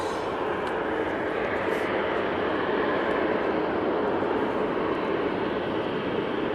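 A Boeing 787-8 Dreamliner in high-density configuration takes off from Manchester Airport, its engines producing a broad, steady roar that holds loud and unbroken throughout, with no voices.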